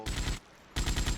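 Two short bursts of rapid automatic gunfire in the video game GTA Vice City Stories, each burst a quick rattling volley, separated by a brief pause, fairly loud with no talk.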